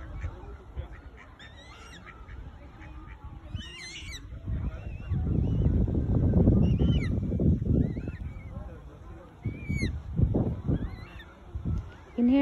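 Several swans honk and call repeatedly nearby on a lake, with a louder rustling burst in the middle and a person speaking briefly.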